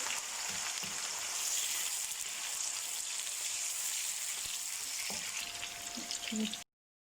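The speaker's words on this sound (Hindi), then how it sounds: "ये देखिए तेल हमारा गर्म हो चुका है। अब हम इसमें प्याज डालेंगे।" Onions frying in hot oil for aloo baingan, a steady close sizzle and crackle that holds for several seconds without voices, then cuts off abruptly at the end.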